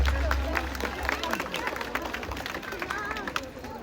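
An outdoor crowd at a concert in an Armenian town claps in a steady patter of hand claps under a talking voice and general crowd noise.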